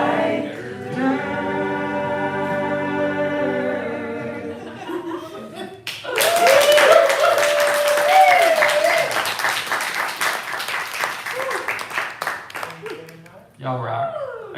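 A small live showcase audience bursts into dense clapping with scattered cheers and laughter after a song ends, loud and close, continuing for several seconds while a voice speaks over it.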